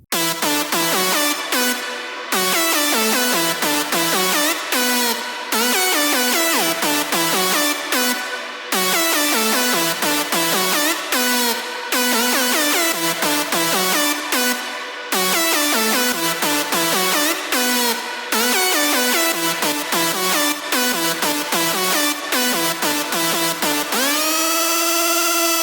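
Bright, dense synth saw chords in a dance-music build, with a synth melody layered underneath. Steady, loud rhythmic stabs with brief gaps, ending on a rising sweep, and no talk.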